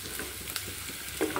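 Vegetable bhaji fries in a pan, cooked until slightly charred, giving a steady close sizzling hiss with a few soft scrapes of stirring and a brief louder crackle near the end.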